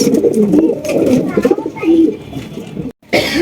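Big black Danish pigeons coo in low, rolling, repeated calls close by, with a person's voice and a brief cough mixed in.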